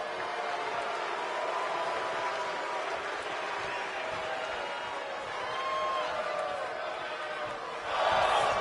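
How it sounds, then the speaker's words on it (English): Crowd noise from the WWE 2K25 wrestling video game: a steady, broad arena buzz under a commentator's voice, swelling briefly into louder cheering at the very end. "And this crowd is buzzing over that."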